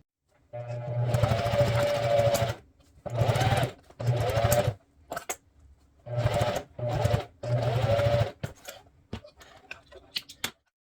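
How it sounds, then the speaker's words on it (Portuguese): Sewing machine stitching a multipurpose wallet, running in several bursts of steady motor hum and needle chatter with short pauses between runs, starting and ending with brief backtack stitches, close and fairly loud with no talking. "eu vou para a máquina, vou iniciar com um arremate e vou seguir até chegar no meu interno e vou finalizar com um arremate"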